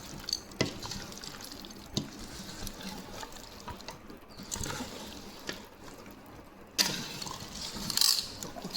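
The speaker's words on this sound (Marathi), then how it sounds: "मला लोणचं हलवून दाखवते मी" A sweet, sour and spicy Khandeshi-style pickle is stirred in red oil, giving soft, intermittent scraping and sticky clicks at close range, with no talking.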